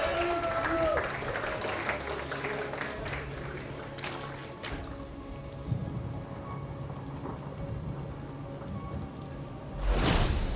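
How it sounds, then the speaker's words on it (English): A big crowd roars and cheers in a dense, rain-like wash of sound at a 2019 GSL StarCraft II tournament match, with commentators talking over it and the noise swelling again at the end. "Huge, loud cheer for soO."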